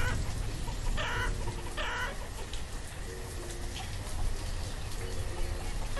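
Chickens cluck in short bursts in the farming video game Banished, small and fairly faint against a dense, noisy ambient background with no talking.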